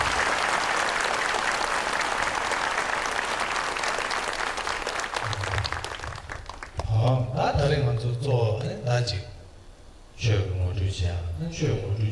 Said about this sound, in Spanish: nosotros también le damos un aplauso a él por estar acá con nosotros